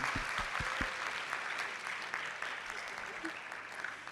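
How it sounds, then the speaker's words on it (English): Audience at a public lecture claps for the students, a steady, fairly faint patter of applause across the room with a few louder nearby claps at the start. "a round of applause for our students as well"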